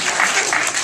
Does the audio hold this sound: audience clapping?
yes